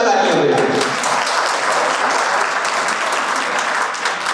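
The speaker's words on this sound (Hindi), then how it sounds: "उनके लिए जोरदार तालियां बजाएं" Audience at an annual function of a chemistry coaching institute gives loud, sustained applause for a first-rank student, dense clapping filling the whole stretch with a voice faintly heard under it.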